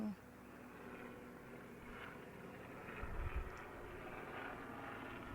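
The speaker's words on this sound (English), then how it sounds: "A helicopter is passing overhead" A faint helicopter drones overhead as a low, steady engine hum at a distance, swelling slightly partway through.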